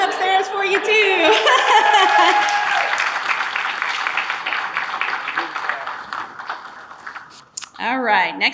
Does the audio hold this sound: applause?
yes